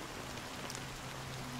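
Rain in the video game Honkai Star Rail, a steady, soft wash of falling rain that continues without break or change.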